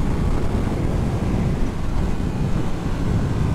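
Heavy wind roar buffets the microphone while riding a new Suzuki GSX-8S motorcycle at speed, a loud, continuous rumbling whoosh with no voices.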